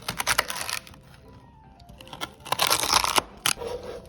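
A knife taps and crunches through celery on a cutting board in quick, uneven bursts of chopping, close and fairly quiet, with no voices.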